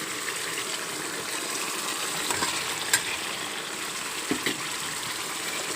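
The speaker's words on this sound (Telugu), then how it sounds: "ఇప్పుడు బంగాళదుంపలు వేసుకోవచ్చు." Boiled potatoes frying in a pan for a Bengali-style potato curry, giving a steady close sizzle with stirring scrapes and a couple of brief knocks, no voices.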